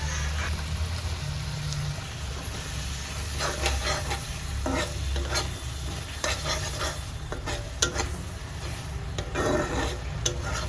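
Cumin and extra turmeric being stirred and sautéed for a Bengali prawn malai curry, with a steady sizzle under repeated scraping strokes of a spatula in the pan, close and continuous.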